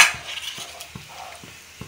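A small amount of fried bottle gourd is stirred in a pan, with a spoon tapping and scraping the metal in a loose, regular rhythm over faint sizzling.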